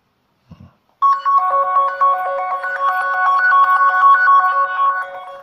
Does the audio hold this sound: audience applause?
no